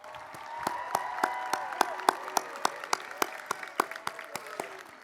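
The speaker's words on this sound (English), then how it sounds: "how about one more round of applause to recognize all of our students graduating with honors today" At a high school commencement ceremony, scattered hand claps ring out in a fairly regular series of sharp, distinct claps, moderately faint against a soft room murmur.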